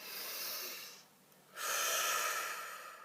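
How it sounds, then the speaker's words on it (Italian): A person draws a deep, audible breath in, pauses briefly, then lets out a long, soft exhale, close to the microphone with no speech. "facciamo un bel respiro profondo"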